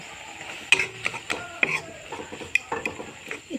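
Chopped tomatoes stirred in a pan while making kasu thur chutney, with a spoon scraping and knocking in quick irregular strokes and a soft sizzle beneath, close and clear with no talking.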